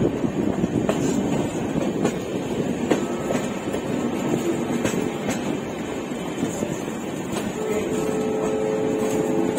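Kathgodam Shatabdi Express, a CC-class train from Delhi, running steadily with a loud, continuous rumble and rhythmic clickety-clack of wheels over rail joints, occasional faint squeals, heard from inside the coach.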